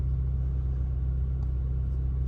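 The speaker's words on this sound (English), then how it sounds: "I've connected my OBD II scanner again, and I've started the car up." A car engine idles steadily just after being started, with a deep, even low hum and rumble close by and no voices.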